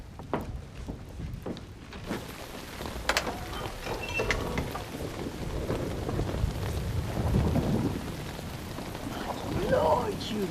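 Steady rain falls on a cold night, a dense hiss with scattered louder drops, crackles and a few sharp knocks, holding fairly even and swelling slightly toward the end.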